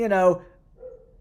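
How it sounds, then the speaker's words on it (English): A neighbour's dog gives one short, sharp bark up close, followed by a faint, brief trailing whine. "they just let their dog bark all day long"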